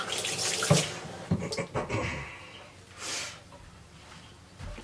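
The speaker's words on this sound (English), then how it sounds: "Let me wash my hands off here." Hands being rinsed under a running kitchen tap during cooking, a steady splashing water flow with brief louder bursts and a short gurgle, close and moderately loud, with no talking.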